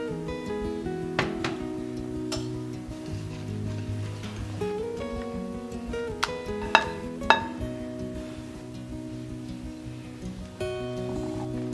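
Bagel dough of bread flour, low-sugar yeast, sugar and salt is mixed by hand in a bowl, soft scraping and stirring with occasional light clinks of utensils under gentle background music.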